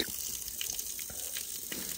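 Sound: water trickling by a lake

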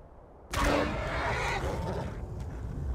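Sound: horse neighing in video game Skyrim

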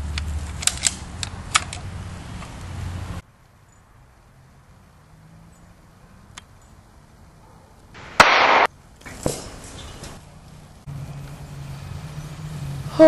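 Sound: BB gun shot

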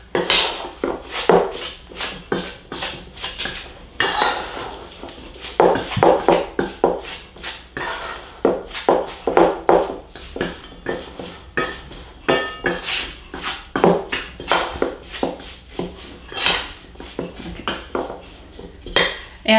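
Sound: mixing salmon cake ingredients in a bowl

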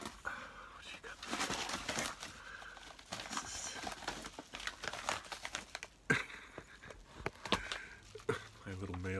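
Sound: dog tearing up mail

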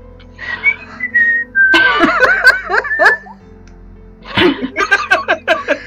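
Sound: imitated whistling

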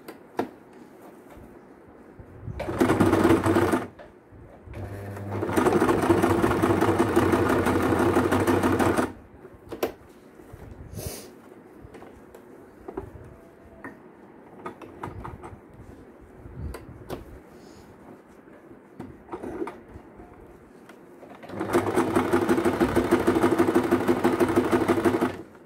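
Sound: sewing machine stitching a frill dress blouse

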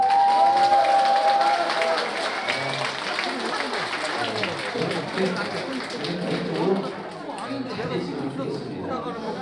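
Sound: audience applause

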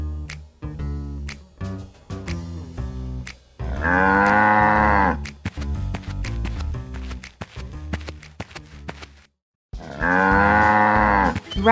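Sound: cow mooing

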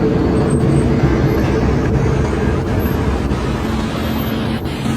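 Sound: road traffic noise in a morning traffic jam

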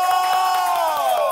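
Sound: audience applause and cheering

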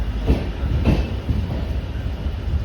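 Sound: train arriving at platform one, Yesvantpur to Mangaluru route

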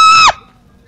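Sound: voice imitating a girl's scream in horror game

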